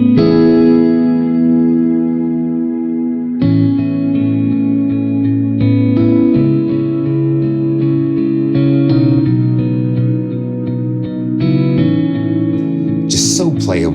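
Cinematic guitar from the Fracture Sounds Hemisphere library rings out in sustained, effect-laden chords with chorus, distortion and echo, shifting to new chords every few seconds, loud and alone, ending in a brief noisy swell.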